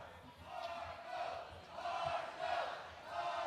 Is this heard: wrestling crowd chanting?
yes